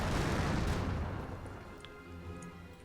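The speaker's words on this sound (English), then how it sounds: "I'm guessing that must be Royal Artillery, yeah, because we've got the observed fire from the lieutenants most likely." Royal Artillery shelling in Company of Heroes, a loud booming impact that rolls off and fades, followed by faint scattered distant pops and crackle.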